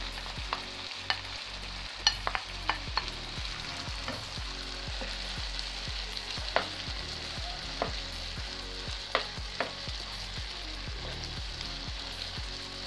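Carrot with red and green peppers frying in a pan for a chicken and seafood paella, a steady close sizzle with crackles and pops throughout and no voices.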